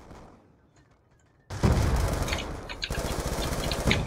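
A sudden loud blast in Call of Duty Black Ops 2 multiplayer erupts after a quiet stretch, followed by a sustained roar of gunfire and rumbling combat noise.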